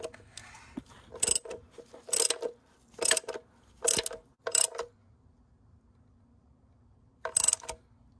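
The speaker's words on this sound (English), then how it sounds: "You'll want to keep tightening until it bottoms out." A ratchet wrench tightens the bolt on a crankshaft seal installation tool on a VW/Audi 2.0T engine, giving six short, sharp bursts of metallic clicking separated by pauses, close and clear in a quiet room.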